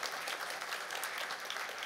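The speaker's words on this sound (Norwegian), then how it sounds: "veldig hyggelig å få applaus på forhånd" An audience applauds a government minister taking the stage. The clapping is soft, even and continuous, with no voices over it.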